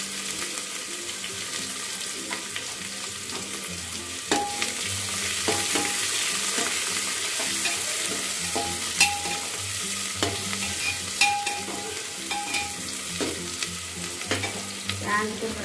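Chopped onions land in hot oil with browned cumin seeds in a pan and sizzle steadily, with repeated stirring scrapes and clinks of a spoon over the constant frying hiss.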